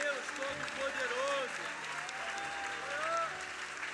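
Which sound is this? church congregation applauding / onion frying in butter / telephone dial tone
church congregation applauding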